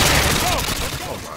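Rapid gunfire in the video game Modern Warfare 2, loud and dense bursts filling the whole moment with a brief rattling fusillade, mixed with game effects.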